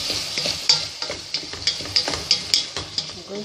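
Prawns stir-fried with vegetables and curry sizzle in a pan while a utensil stirs in quick, regular scraping strokes, a dozen or so sharp clicks over a steady frying hiss, close up.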